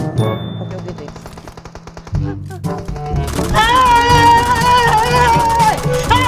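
Rapid bursts of automatic gunfire crackle from PUBG Mobile, rattling in quick repeated volleys that build into a dense, loud stretch, with a player's voice breaking in between shots.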